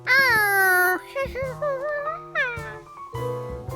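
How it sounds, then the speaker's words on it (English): A cartoon cat in Curious George meows loudly several times, long drawn-out cries with short pauses between them, close to the microphone. "Please keep that cat away."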